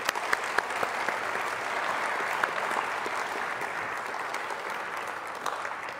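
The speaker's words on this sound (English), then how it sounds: "Can we have another round of applause for our academic librarians?" An awards ceremony audience applauds academic librarians with a full, sustained round of clapping from many people, steady and fairly loud for six seconds, with a few sharper individual claps poking through and no speech.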